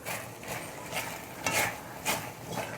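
A banana mixture cooked in ghee is stirred in a pan over medium heat, giving soft scraping strokes and light clinks about every half second, with a faint sizzle underneath.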